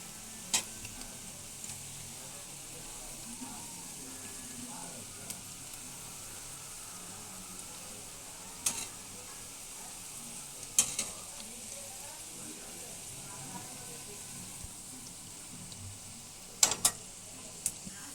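Low, steady sizzle of onion pakoras frying in oil, with occasional soft clicks and taps standing out above the hiss; no voices.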